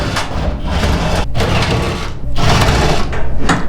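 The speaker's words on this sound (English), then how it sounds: "there's a couple Phillips screws that need to be removed" Phillips screws being backed out of the cover of a Whirlpool dryer that has no heat, a continuous loud mechanical whirring and grinding, likely a power driver, running almost without pause and close to the microphone.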